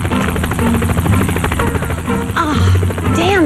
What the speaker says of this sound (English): Amber, it's a Channel 11 news helicopter.